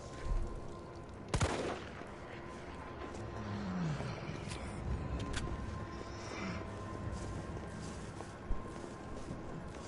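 Gunfire in the Resident Evil 3 video game: a couple of sharp shots ring out over a low, rumbling ambience of growling and noise, fairly quiet overall with one more crack near the end.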